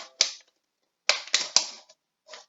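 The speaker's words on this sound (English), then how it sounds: "stick the scissors in there and go round" Scissors cut round a hole in a series of short, crisp snips, one alone and then a quick cluster of three, with a softer final snip, close up and with no voices.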